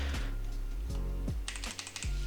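Quick, quiet keystrokes clack on a HyperX Alloy FPS RGB mechanical keyboard, a short burst of steady typing up close with no voices.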